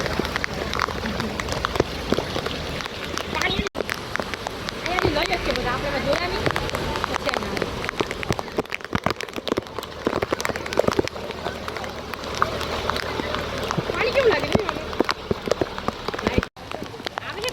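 Heavy monsoon rain in Ahmedabad patters and hisses throughout, with people talking nearby over the constant downpour.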